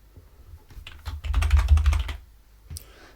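Typing on a computer keyboard, with a close run of quick clicky keystrokes that builds into a dense flurry before stopping, followed by one last tap and no speech.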